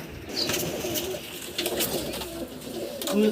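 Pigeons in a loft coo softly, several low throaty calls overlapping close by against a busy background of rustling and flutter.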